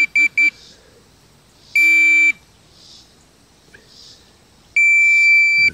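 A Minelab Pro-Find 40 pinpointer with ferrous ID switched on gives three separate electronic tones: two quick beeps, then a longer steady tone, then another sustained tone after a pause. Each is clear and close, with quiet background between.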